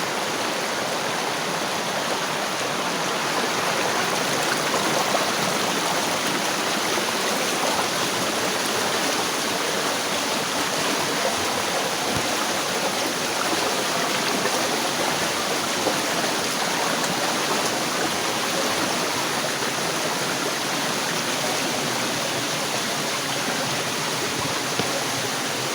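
Water streams steadily past large boulders in a rugged forest setting, a loud continuous broadband rush with no clear breaks that fills the entire stretch and has no voices over it.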